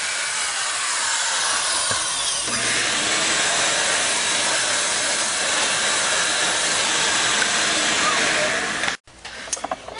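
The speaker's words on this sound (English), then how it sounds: "once that next drill bit's in, you're just going to find your hole and do the same thing again" A power drill with a larger bit boring through a hole in a valve job, a loud steady whirring grind that lasts about nine seconds before cutting off abruptly, followed by a brief rattle.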